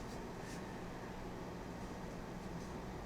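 Star Citizen train ride: a steady, dense low rumble of rolling rail travel fills the whole stretch at an even level, with no voices over it.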